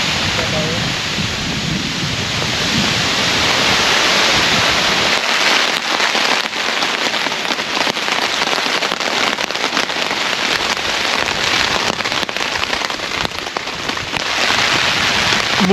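Heavy rain pours down with thunder and strong wind at a motorcycle campsite near Mayon in Albay, a dense, loud, unbroken roar that deepens with low rumbling partway through, with faint voices under it.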